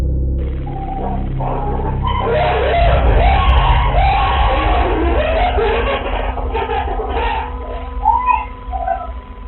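Cleaners inside a hoarder's house scream and yell together, a loud continuous crowd of overlapping shrieks and bellows lasting several seconds, close and harsh with no clear words.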